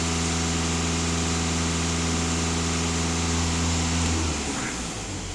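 A VW Passat B8 engine idles with a steady, loud, even hum and low drone, holding constant before the tone shifts and thins slightly near the end; no talking.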